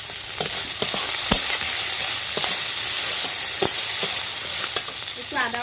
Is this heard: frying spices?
yes